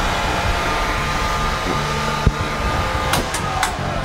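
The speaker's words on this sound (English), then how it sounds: "we'll usually turn on the vacuum and the helium" A vinyl record cutting lathe runs with its vacuum and helium systems on, giving a steady airy whoosh and hum, with a single sharp click midway and a few faint ticks near the end.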